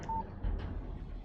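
A text message alert on a phone in the Alan Wake video game: one short, clean electronic beep that sounds once and stops over a low, dark ambient hum.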